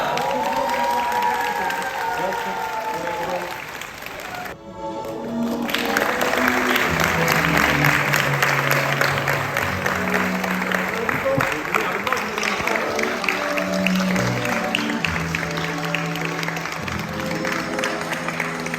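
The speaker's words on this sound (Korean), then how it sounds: "멋진 결혼식을 여러분의 힘찬 박수와 함성으로 실행하겠습니다" Wedding guests in Korea clapping and cheering, the noise swelling after a short pause into a loud, steady mass of applause with voices and music running under it throughout.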